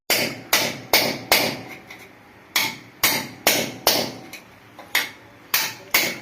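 Old bathroom floor tiles being chipped out with a hammer striking a flat screwdriver, a steady series of about fourteen sharp, close metallic blows with brief cracking decay between them.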